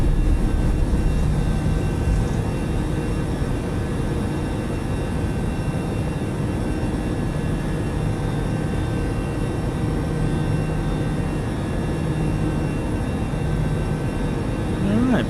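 Airbus A318 jet engines at takeoff power in Microsoft Flight Simulator 2020, departing Mexico City, keep up a steady, close roar with a constant high whine, a brief rising tone near the end, and no clear talk.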